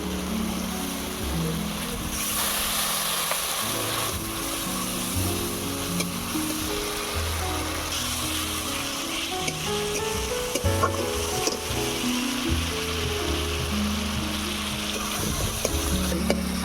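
Chopped onion with onion, ginger and garlic pastes fries in mustard oil in a pan, a continuous loud sizzle with faint low knocks and stirring noise throughout.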